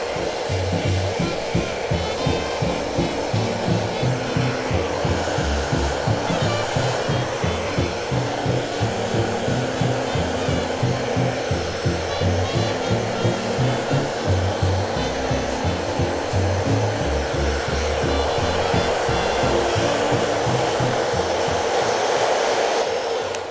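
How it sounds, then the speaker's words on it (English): A hairdryer runs steadily and loudly throughout while a round brush blow-dries a man's beard at a barbershop, its constant rushing hum alone with no talking. "Just using the hairdryer and the round brush to blow dry it out."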